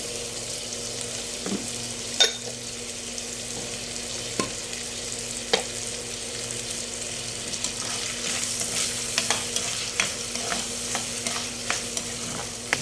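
Oil heats in a pan for frying shrimp paste, a continuous low sizzle with occasional sharp stirring clicks and taps, close by and no talk.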